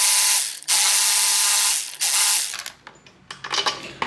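Ratcheting tool unscrewing bolts on a 2023 BMW S1000RR motorcycle during a ceramic bearing install; a loud steady whir of rapid clicks runs for about two and a half seconds, then gives way to softer scattered ticks and clinks.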